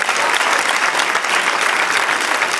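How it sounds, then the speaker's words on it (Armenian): An audience at a stage show claps loudly in sustained, dense applause that stays even throughout, with no speech on top. "Բրավո, մեր բարձր ծափարությունները գրիգին"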